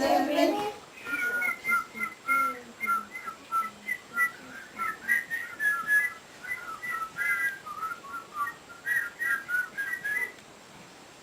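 Several young kindergarten children whistle a bright, bouncy tune together at a birthday, the notes rising and falling in quick phrases at a steady moderate loudness.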